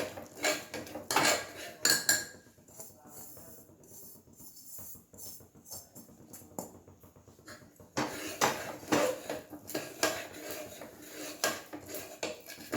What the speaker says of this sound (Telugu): ఉండలో కట్టుకోకుండా కలుపుతూ ఉండాలి.